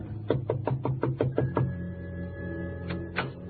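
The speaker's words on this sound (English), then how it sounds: "then she went over and knocked on the door." A series of about seven quick, evenly spaced knocks lands on an office door in an old radio drama, then two more isolated knocks follow over a low steady hum.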